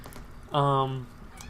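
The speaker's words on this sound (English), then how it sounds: "There's a cat meowing outside." A cat outside gives a single harmonic meow, short and fairly loud, heard indoors with faint room noise around it.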